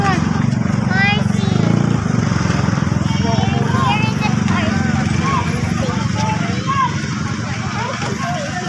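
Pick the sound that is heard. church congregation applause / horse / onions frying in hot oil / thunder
horse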